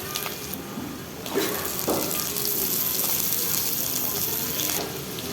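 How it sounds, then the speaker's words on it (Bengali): Chopped onions and small potato pieces fry in a pan after cumin and bay leaf tempering, giving a steady close sizzle that swells as the potatoes go in, with occasional scraping stirs. "পেঁয়াজ হালকা ভাজা হলে দিয়ে দেব কেটে রাখা ছোট টুকরো করে রাখা আলু"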